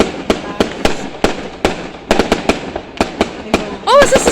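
Fireworks going off on Bonfire Night, a rapid run of sharp bangs and crackles at irregular intervals, fairly close and loud, ending in whistling rising shots, with a voice speaking briefly amid the blasts.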